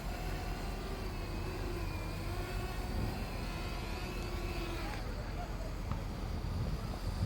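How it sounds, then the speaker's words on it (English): Blade 200QX quadcopter motors spinning, a steady close whine with tonal harmonics that stays even and then drops away as the motors wind down, with someone talking over it. "And to get the motors to stop, to disarm the motors, you have to go down on the throttle trim until they stop."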